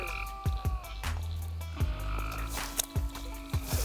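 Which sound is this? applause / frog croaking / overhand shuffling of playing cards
frog croaking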